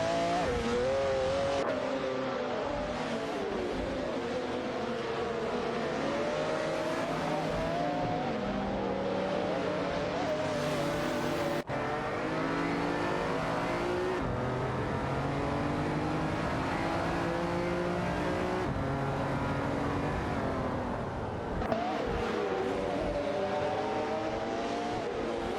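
AI-driven race cars duel around a track in a continuous, loud engine roar, with revving pitch sweeps rising and falling as cars accelerate, shift and pass, for the whole stretch without talk.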